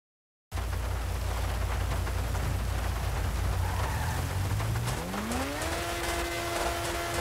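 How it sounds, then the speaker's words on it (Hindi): A car engine rumbles steadily after a sudden start, then the pitch rises smoothly as it revs up, with no talking. "मैं तुम्हें आवाज़ सुनाता हूँ गाड़ी की"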